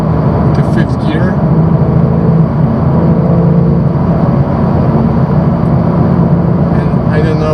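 Loud, steady engine roar from a Porsche 911 Turbo (992) driven in Sport Plus mode through city traffic, a continuous low rumble holding close and full throughout with no pauses.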